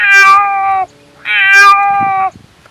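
A cat gives two long, drawn-out meows up close, each rising and then trailing off, with a short pause between them.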